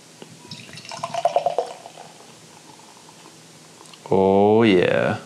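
Tree House In Perpetuity beer glugs from a can into a glass, a soft liquid pour building and rising toward the end, with a voice talking briefly before it.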